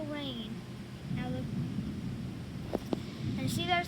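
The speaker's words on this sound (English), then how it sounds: "there's the thunder" Thunder rumbles low during a storm with torrential rain, a dull roll under steady rain and wind noise, with a couple of sharp cracks near the end and chirping tones on top.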